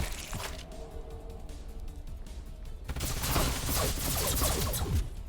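Units in the sci-fi strategy game Age of Wonders Planetfall fire a volley of gunfire, a dense crackling burst that swells louder midway and keeps rattling to the end, with no talking.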